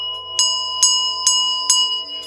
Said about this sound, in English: I'll leave you with a bell.